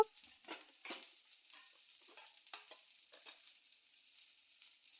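Curry leaves, coconut, pepper and cumin dry-roasting in a pan, faint, sparse crackles and light pops against near silence.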